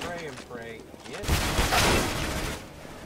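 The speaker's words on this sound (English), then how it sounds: "Gunfire coming in on him." Gunfire in Counter-Strike: Global Offensive during a tournament match, a dense burst of rapid shots that starts suddenly and stays loud for about two seconds, coming right after a commentator's voice.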